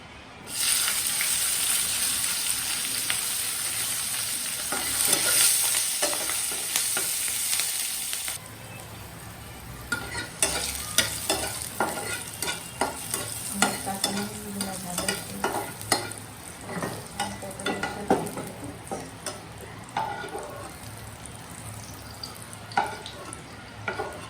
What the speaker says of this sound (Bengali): আমি কাঁচামরিচগুলো ভেজে নেব